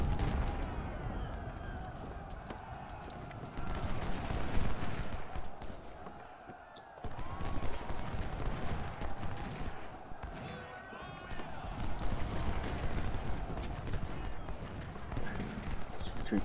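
Dense battle noise from a Civil War game with Ohio artillery pieces on the field: continuous rumbling gunfire and cannon bursts swell and fade across the whole stretch, with a brief dip near the middle.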